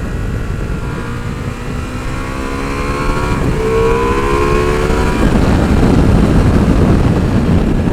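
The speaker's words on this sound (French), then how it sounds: "Avec l'Acra, ça sonne bien, hein. Dès qu'on monte dans les tours," A 2021 Ducati Multistrada V4S with an Akrapovic exhaust revs up under acceleration, its engine note rising steadily in pitch, loud and close, over heavy wind rush.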